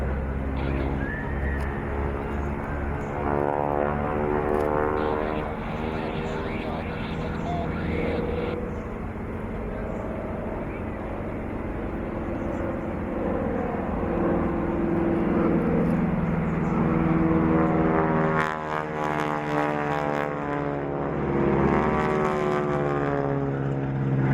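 Propeller aircraft fly crossover manoeuvres at the Sunderland Airshow 2014, a continuous engine drone that shifts in pitch as they pass, swelling louder later on while a commentator speaks over it.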